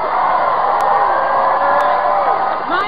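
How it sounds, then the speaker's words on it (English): A large arena crowd at the 1996 MTV Video Music Awards in New York screams and cheers loudly and continuously, whoops and yells blending into a sustained roar. "They both make a bet to see who can make the crowd scream louder."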